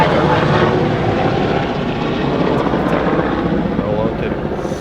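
Helicopter and aircraft noise near an airport, a loud continuous rotor-and-engine rumble that fades slightly as it passes, with voices faintly under it.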